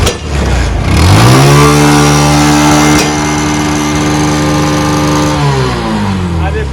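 A faulty motorcycle that jerks and won't rev up properly is started; its engine rises into a loud, steady droning rev after about a second, holds, then drops back near the end.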